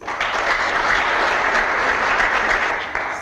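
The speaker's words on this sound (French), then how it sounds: "il mérite des applaudissements" Dense, steady applause from an audience at a community event in Irumu territory, filling the whole stretch at an even, loud level with no pause.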